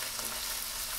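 Onions sizzle and fry steadily in a pan for chicken cacciatore, a continuous dense crackle with no talk.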